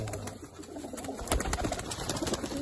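Teddy breed pigeons coo softly nearby, with low repeated coos and light rustling carrying on throughout without any voices.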